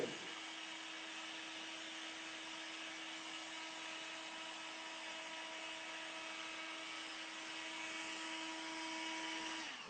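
A heat gun runs steadily while drying puff screen-print ink on textile, a constant whirring fan hum with a high tonal whine, moderately near, unbroken and alone for the whole stretch.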